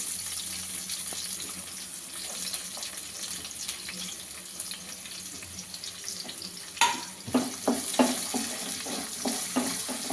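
Sliced onions, green chillies and bay leaf fry in hot oil in a pan for an egg curry, a steady close sizzle with stirring scrapes and clatter growing louder toward the end, with no talking.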